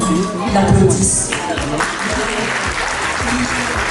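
Audience applause at a gala celebrating disability and diversity, steady broadband clapping filling the hall for a few seconds while a voice speaks over it.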